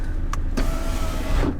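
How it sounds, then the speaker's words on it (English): Power windows on a Porsche 718 Boxster motoring closed, a steady close electric whine with a soft clunk near the start and a thud as the glass seats, no talking. "keep holding it till the windows close"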